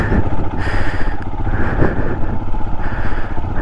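Motorcycle engine churning as the bike skids on snow on the road up Khardung La, a steady, loud, rough mechanical drone with clattering texture throughout, no talk.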